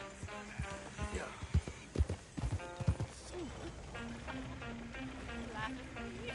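Horse hooves clip-clop beside a rolling horse-drawn coach in Red Dead Redemption 2, a steady nearby trotting rhythm with a few sharper hoof strikes, mixed under conversation and background game music.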